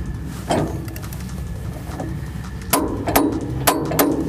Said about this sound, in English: you can take that 5/8 socket and apply the proper torque